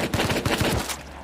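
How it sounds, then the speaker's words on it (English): A rapid string of close, punchy automatic gunshots fires in quick rhythm in the game Rust, then cuts off and leaves a short fading tail. "I'm hearing him shoot."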